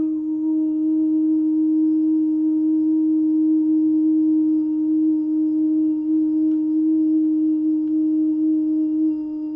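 Steady electronic healing tones: a continuous, even drone of pure sustained pitches with a couple of fainter overtones, loud and unchanging throughout, with no voices.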